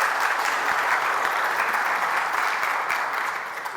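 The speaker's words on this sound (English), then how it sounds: "Why don't you give her a round of applause to welcome her up to the front?" A church congregation at a Sunday evening service applauds to welcome a woman to the front, a steady, even wash of clapping from a full room that tapers slightly at the end.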